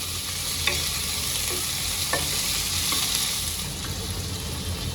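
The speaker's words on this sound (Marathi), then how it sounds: "तेलामध्ये सतत हलवत राहते मी" Flat bean pods fry in oil over a low flame, with a steady close sizzle and a few light spatula taps and scrapes as they are stirred continuously.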